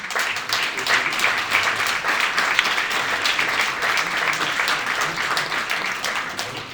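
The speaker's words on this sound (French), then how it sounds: "je vous propose de les applaudir" Attendees at the Cattenom municipal council's installation meeting break into sustained, even applause, many hands clapping close and steady throughout with no clear speech over it.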